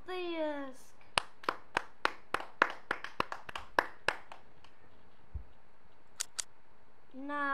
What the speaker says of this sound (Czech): Na třetím místě se umístil Latamata. Potlesk.